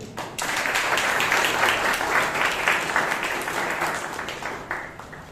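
Sustained audience applause at a Toastmasters meeting, a thick roomful of clapping that starts abruptly, stays strong and then gradually thins toward the end.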